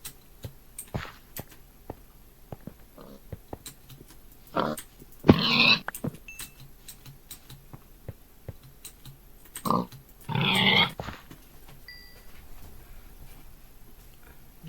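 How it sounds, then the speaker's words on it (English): A pig in Minecraft grunts in two short bursts a few seconds apart, fairly close and clear over quiet game ambience with faint clicking. "Ooh, I hear a pig."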